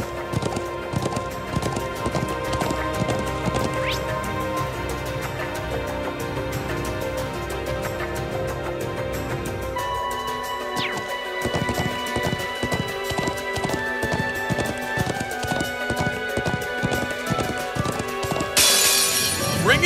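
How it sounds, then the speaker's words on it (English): Horse hooves galloping in a steady clip-clop rhythm in the video game Trails of Cold Steel II, loud and continuous with game music and effects layered over it. "I'm glad I still remember how to ride a horse."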